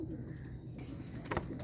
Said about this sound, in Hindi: ये भी लाल आँखों का कबूतर, कांटों वाला कबूतर है